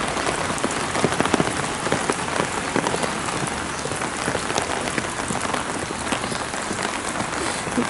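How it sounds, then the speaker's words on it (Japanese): Heavy rain pours in Kyoto at the Gokōgū shrine, a dense continuous patter of drops striking hard surfaces close by. "すごい雨ですね京都は"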